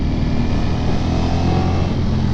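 An Italian motorcycle engine runs at a steady high rev, around 4,000 to 5,000 RPM, a loud, close, continuous droning roar with wind noise and no talk.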